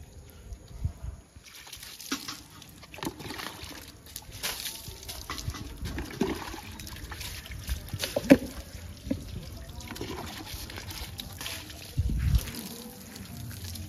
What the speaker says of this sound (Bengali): আমি বাইকটাও ধুয়ে নিই।